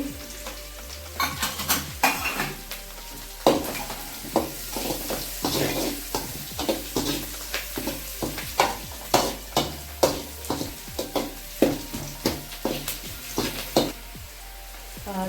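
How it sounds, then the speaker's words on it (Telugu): Curry leaves fry in hot oil with onion for a goat blood fry, a steady sizzle broken by repeated rhythmic spatula scrapes and clacks against the pan. "కరివేపాకు వేగాలి కరివేపాకు బాగా వేగనిచ్చాలి"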